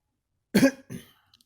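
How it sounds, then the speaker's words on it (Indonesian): A single close cough, a sharp burst followed by a shorter second hack, then silence. "maaf saudara, batuk."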